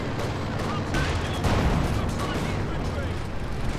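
Howitzer artillery fire in Company of Heroes 2 during a 2v2 match: a loud, dense roll of booming blasts and crackling impacts that stays steady for the whole stretch, with little pause between shots.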